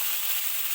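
Pumpkin pieces hit hot oil with cumin and a bay leaf in a wok, making a loud, steady, close sizzle throughout the short burst.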